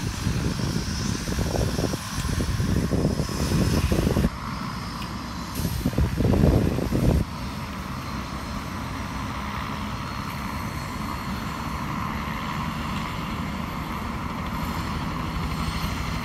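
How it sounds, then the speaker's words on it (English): A helicopter drones overhead during Hurricane Matthew in 2016, with a steady, rumbling engine and rotor noise, louder early on with some buffeting, then settling into a constant distant hum. "something's going on that they're having to use a helicopter"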